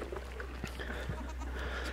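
Faint goat bleats come and go over a steady low hum, a few short wavering calls at a distance.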